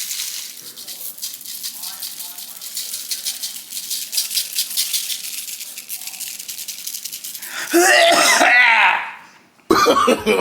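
A person coughs harshly in a short burst, close by, while seasoning chicken in a kitchen, over a steady sizzling background, then the sound breaks off briefly.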